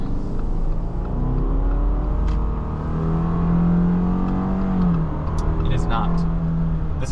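A 2022 Subaru Forester Wilderness with its naturally aspirated 2.5-litre engine revs up, a steady mid-pitched drone that swells and falls back close by, with someone talking over it throughout.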